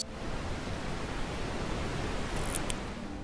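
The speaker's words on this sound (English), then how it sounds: "It's less high-pitched than white noise and has a similar audio signature to rustling leaves, rain, and wind." Steady pink noise played as a sleep aid, a soft, even hiss like rustling leaves, rain or wind, continuous and unchanging with no voices.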